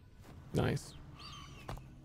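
A short whistled bird call sounds in the video game Last Epoch, following a brief burst of a nearby voice against a soft game backdrop.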